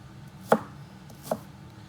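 Knife chopping ingredients for homemade tartar sauce on a cutting board: two separate soft, dull thuds roughly three quarters of a second apart, quiet and close against a faint background.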